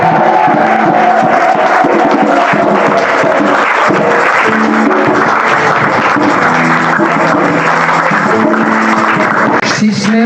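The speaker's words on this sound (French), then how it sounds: "On acclame fort Jésus" A church congregation at worship loudly cheers and applauds Jesus, a steady roar of clapping and voices filling the room, with sung or chanted notes weaving through the crowd noise throughout.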